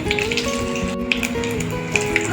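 Dried red chillies, one split and one whole, with cumin sizzle briefly in hot mustard oil in a Bengali kitchen, a soft crackle with small pops under steady tonal music.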